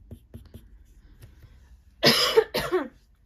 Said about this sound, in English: apologise for that cough